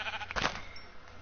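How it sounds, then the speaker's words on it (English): A single sheep bleat from the video game Minecraft, a short wavering call standing out clearly over quiet game background. "No, sheep, come back here."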